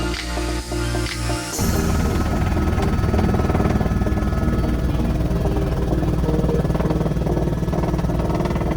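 Loud, steady helicopter engine roar with a fast thumping rotor pulse, close and continuous after a sudden start, in flight over Guatemala.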